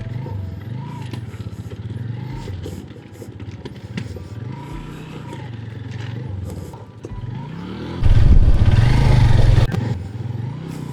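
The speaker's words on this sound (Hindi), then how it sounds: "जगह जगह लूज़ पत्थर हैं, जिसकी वजह से बाइक चलाने में काफ़ी ज़ोर लगाना पड़ रहा है।" A motorcycle labours over loose stones on a rough mountain track near a railway line in Balochistan, its engine note rising and falling with effort, then swelling loud and gritty for a couple of seconds as the tires crunch across the rocks.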